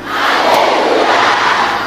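Loud church congregation shouting a sustained collective acclamation, a dense roar of many voices that swells and holds for about two seconds.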